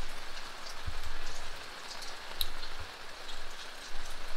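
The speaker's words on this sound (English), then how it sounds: "I don't hear thunder and lightning, but it's definitely raining" Rain falling on a campsite at Fir Creek Camp in Idaho, heard from a camper van with an awning: a steady, soft patter of drops with occasional heavier close taps.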